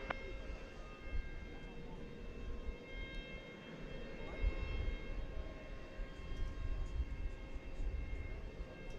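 At DFW Airport a jet rolls for takeoff on runway 18 left, a distant steady engine roar with whining tones that swells gently over several seconds, under faint background noise.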